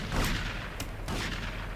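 Booming shotgun blasts and gunfire during a rampage in Grand Theft Auto Vice City Definitive Edition, a few heavy reports in quick succession over a dense, noisy game backdrop.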